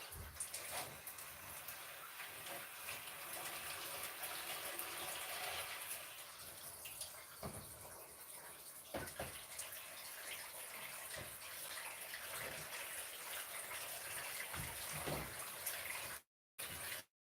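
Tap water runs steadily from a faucet into a basin during home fabric dyeing, a continuous gushing hiss that holds for about sixteen seconds before cutting off briefly near the end.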